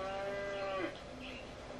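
A cow lets out a long, low moo, followed by fainter lowing and faint outdoor background noise.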